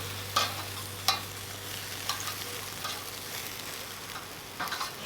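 Chicken pieces sizzling steadily over a charcoal Weber Jumbo Joe grill, a constant close crackle with occasional scrapes and taps of tongs moving the meat, no speech.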